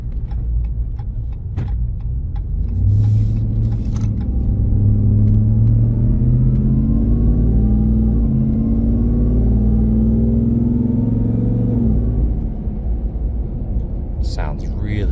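A 2023 Ram 1500 TRX Hennessey Mammoth 1000 pickup on aggressive tires drives with a loud, steady low engine rumble that swells and holds through the middle, with a few faint clicks and knocks on top.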